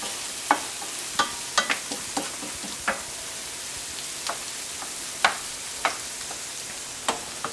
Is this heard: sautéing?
yes